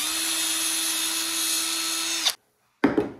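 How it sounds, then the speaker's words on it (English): A small drill bores a little centre hole through a handle before a grip goes on. The drill whines steadily at close range for about two seconds, stops abruptly, and a brief scrape follows. "if you take and drill yourself just a small little hole in the center"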